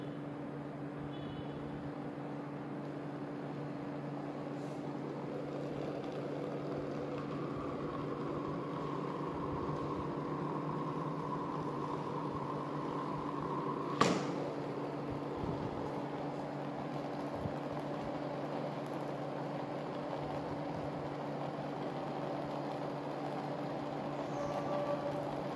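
Single-rotor axial flux BLDC motor running steadily with no load, a continuous electrical hum with a stable tone and a rising whine partway through, plus one sharp click near the middle.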